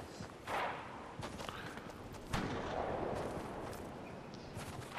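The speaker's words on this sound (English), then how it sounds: "there's some sniping behind us" Distant sniper gunfire in Fortnite, sharp cracks from behind at a few irregular moments, heard against a busy game ambience with no talk.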